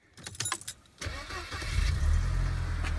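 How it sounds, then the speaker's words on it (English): A 2004 Mercedes-Benz CLK 200 on its first start of the day: a few clicks, then the starter cranks briefly and the engine catches, settling into a steady, loud idle close by. "this is the Mercedes-Benz CLK 200 and this is startup, first startup of the day."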